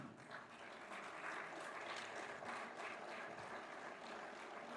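Audience at a local governance roundtable clapping for county superintendents as they stand, a steady, faint, dense wash of applause throughout.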